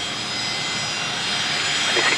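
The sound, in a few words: old Fokker aircraft at Brisbane Airport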